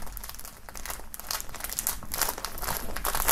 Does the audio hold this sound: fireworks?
no